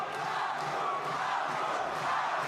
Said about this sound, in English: Crowd just at a fever pitch here in Germany